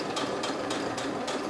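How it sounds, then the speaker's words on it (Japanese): Sewing machine stitching fabric for a bag with a 1 cm seam allowance, a steady continuous mechanical whir with faint repeating pulses, close and moderately quiet, no talk over it. "1センチの縫い代で縫っていきます。"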